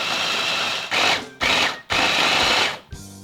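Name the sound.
food processor mixing butter, flour and sugar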